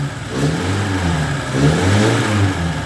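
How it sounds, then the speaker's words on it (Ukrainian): VAZ 21013 car engine revving up and holding several times, a loud, close, throbbing mid-pitched rumble with no talking over it. "А ну дай трошки, наступи газку."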